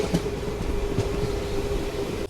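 A passenger train pulling into Anandapuram railway station on the Talguppa–Shivamogga line gives a steady, close rumble with a sustained tonal hum, over about two seconds and with no voices.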